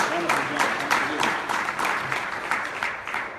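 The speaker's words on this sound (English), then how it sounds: "Why don't we give them a round of applause?" An audience claps together in a sustained, dense round of applause, evenly loud throughout with individual claps blurring into a continuous patter, spoken voice mixed in.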